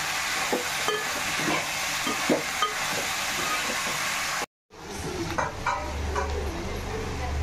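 Broad beans and eggplant pieces frying in a pan while being stirred, a steady sizzle with scraping and light knocks of the spoon, interrupted by a short pause and then a lower, fuller sizzle.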